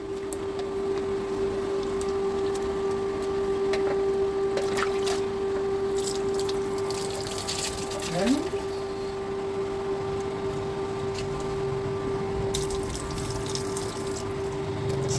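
Water runs and splashes continuously while a dog is bathed, a steady wet hiss with a constant tonal hum beneath it and occasional faint clatters.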